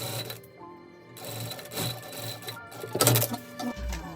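A sewing machine runs in short bursts, stitching the shoulder seams of a V-neck collared dress with right sides together, close and steady, with brief stops between runs.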